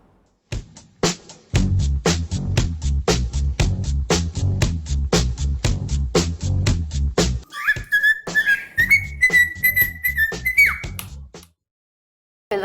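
Parrots give a series of sharp, bright whistles in quick succession, then a long, wavering melodic whistle like a bird singing a tune, fairly close and clear.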